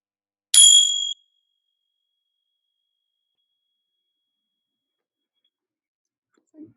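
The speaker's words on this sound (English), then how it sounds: "I'll start the meditation with a bell" A meditation bell is struck once, giving a bright, clear ring that fades quickly into long silence.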